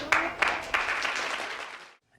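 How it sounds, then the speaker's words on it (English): Studio audience applause in a 1980s sitcom, a dense burst of clapping that swells at once, holds steady for about two seconds, then cuts off abruptly into silence. "The applause break"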